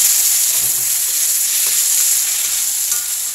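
Shrimp sautéing with onion and garlic in a hot pan, a loud continuous hiss and sizzle close up, even and unbroken throughout with occasional faint stirring clicks.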